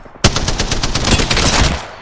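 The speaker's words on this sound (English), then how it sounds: "I am taking fire" Rapid automatic gunfire in a team-based video game, a loud sustained burst of closely spaced shots starting abruptly and running for nearly two seconds, no talk.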